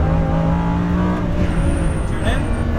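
Lamborghini Huracan engine accelerating on a race track, a loud steady high-revving drone that climbs in pitch, heard from inside the car while an instructor talks over it.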